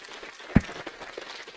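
Brief, faint applause from attendees at a county Board of Supervisors meeting, a thin patter of scattered claps with one louder thump near the start.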